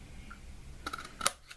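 Paper card stock snipped with a punch or scissors to remove a V-shaped notch, with a couple of soft clicks followed by one sharper snap, faint and close.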